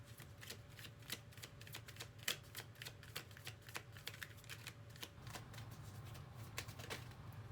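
Tarot cards are handled and drawn, giving faint, quick, papery flicks and taps in an uneven patter over a low, steady hum.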